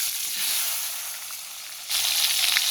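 Ten to twelve whole onions go into hot oil, producing a steady hissing sizzle that swells noticeably louder partway through, close and without any voices.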